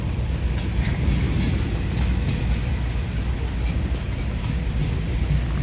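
A train passing on a railroad, heard as a steady, loud rumble of wheels on track with faint rhythmic clatter throughout, close by and without talk.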